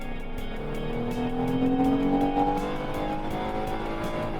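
A 2025 Ford Transit XL van accelerates with a steady, moderate engine hum and rising whine heard from inside the cabin, with road noise underneath and no talk.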